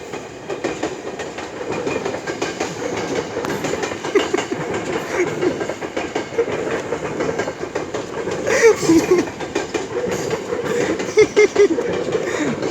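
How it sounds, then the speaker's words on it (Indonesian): A train rolls past with continuous rumbling and rhythmic clickety-clack of wheels on rails, growing slightly louder toward the end. "Keretanya di sana."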